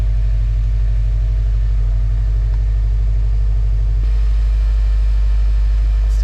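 Rebuilt Subaru STI engine idling just after its first start, a loud steady low rumble with a pulsing exhaust throb that shifts slightly partway through.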